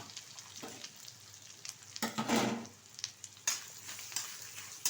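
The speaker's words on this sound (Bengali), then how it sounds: "এখন এই বাটারেই ভেজে নেব কিছুটা নারকেল" Grated coconut frying gently in butter in a pan for an Eid mango lachha semai, a soft steady sizzle with light stirring scrapes, one louder burst midway, close and with no talk.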